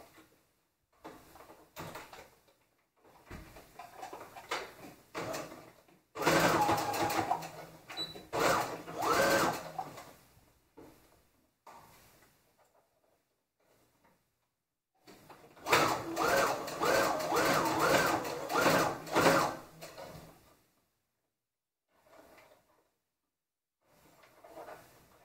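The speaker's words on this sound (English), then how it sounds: "I'm going to sew in the direction of the pleats" A sewing machine stitches along the direction of pleats in fabric, in two long steady runs separated by short stop-start bursts and quiet handling pauses, close and clear with no talking.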